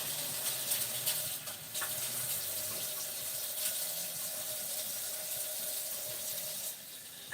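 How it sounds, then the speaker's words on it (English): Tap water runs steadily over a dish being rinsed in a kitchen sink, a continuous close splashing hiss with small clatters, no talk. "I'm going to wash this real quick. I'm going to rinse this."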